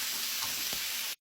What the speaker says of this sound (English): It's almost done boiling out, and the chicken is starting to cook.